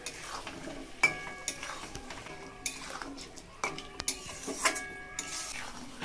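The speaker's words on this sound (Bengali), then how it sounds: "মাংস খুব ভালো করে কষিয়ে নেব।" Meat with spices being stirred and fried in a pan for a chicken and cucumber dish, with a spoon clinking and scraping against the metal at irregular intervals over a low sizzle.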